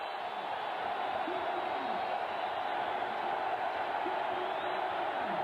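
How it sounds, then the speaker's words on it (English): A large crowd at a 1994 Auburn versus Arkansas college football game roars steadily in the distance, a broad, continuous cheer that swells slightly while a commentator talks over it. "This crowd come alive."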